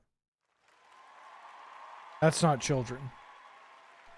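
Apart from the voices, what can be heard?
applause and cheering sound effect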